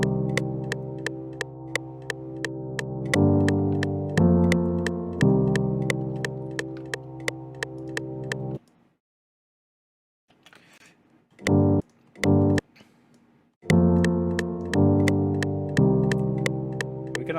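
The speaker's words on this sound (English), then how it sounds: "now we have a nice tail that's the tail of the piano is now reversed" A piano sample in FL Studio with its reversed tail, playing as a looping pattern of sustained chords with crisp ticking hits on top. It cuts to near silence partway through, then a few short bursts, before the loop resumes.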